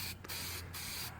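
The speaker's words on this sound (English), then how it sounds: "And now we're just gonna make a mess and spray paint." Spray paint hissing onto a model of the 2001: A Space Odyssey monolith, three short bursts against a steady background, fairly quiet and close.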